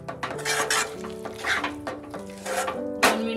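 A spoon stirs and scrapes thick kothimbir vadi batter in a pan, producing repeated scraping, clinking strokes in an uneven rhythm over a faint sizzle.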